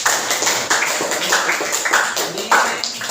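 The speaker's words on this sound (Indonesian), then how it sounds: "Oke, tepuk tangan dulu ya." A group claps hands together in a dense, continuous patter of many overlapping claps, loud and close, with slight surges in intensity.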